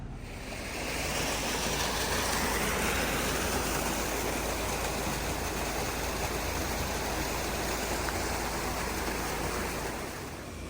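Water rushes into a narrowboat canal lock in a steady, broad roar, a strong flow pouring through a channel, continuous and fairly close, with no voices.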